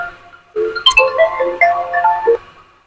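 Bright electronic phone ringtone plays a short melodic phrase of rising and falling tones, close and clear, then fades.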